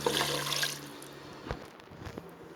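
Rice-washing water poured into a pan of mutton chops gravy gives a brief splashing rush at the start, then a few small drips and clinks close by.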